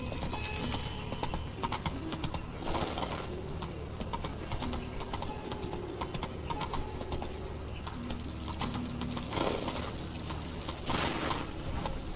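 Hooves clip-clop rapidly and steadily as the horse Roach gallops in the video game The Witcher 3, with a constant drone of ambient game sound and a short whinny or snort.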